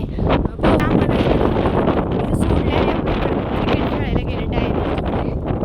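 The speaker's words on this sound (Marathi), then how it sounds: "डोंगरावर खूप वारं सुटायला लागले" Strong wind gusts across a hilltop in rural Maharashtra, buffeting the microphone in a loud, steady roar with rustling throughout.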